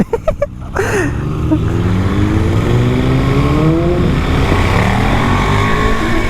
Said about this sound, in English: That's a Ducati Street Fighter.